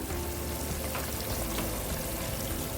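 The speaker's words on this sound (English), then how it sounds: "tomatoes are boiling." Tomatoes boil in a cooking pot in a large community langar kitchen, giving a dense, steady bubbling and sizzling wash that runs unbroken from start to finish with no voices.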